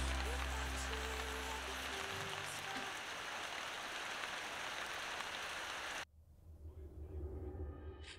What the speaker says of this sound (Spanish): Se ha puesto a llover enseguida